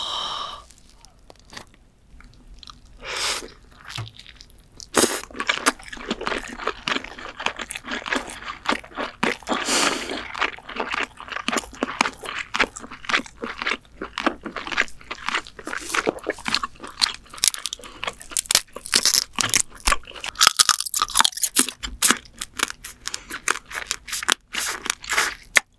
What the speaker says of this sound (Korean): 자, 먹어볼게요. 일단 킹크랩부터.